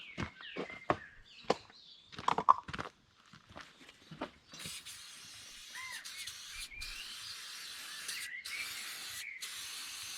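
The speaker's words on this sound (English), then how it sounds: "I'm just going to give them a lick of soft seal and stop them from rusting." A spray can lays soft seal rust protection onto unpainted steering parts of an International BTD6 bulldozer: a few clanks and handling knocks, then steady close hissing spray in several long bursts with short pauses.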